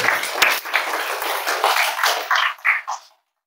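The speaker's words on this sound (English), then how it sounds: "Clap for yourself" Audience clapping for themselves during a spectacle dispensing training session, a dense patter of hand claps that holds steady for about three seconds and then stops abruptly.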